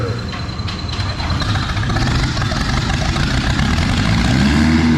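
A competition pulling tractor at a tractor-pull event labours with a loud, deep, continuous engine rumble that grows heavier as it runs out of power mid-pull.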